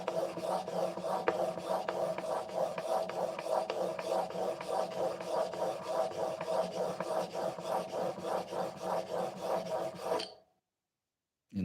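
A chisel rasps back and forth on an 8000 grit whetstone in slurry, steady rhythmic rubbing strokes close up for about ten seconds before stopping abruptly into silence.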